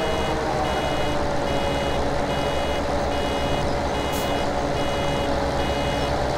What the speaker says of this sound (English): Almost is a loose term when these balers start beeping